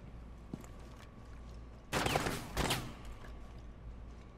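Gunfire in Rainbow Six Siege, a short distant burst of shots, then a second burst about half a second later, faint beneath a quiet game background with no talking during the shots.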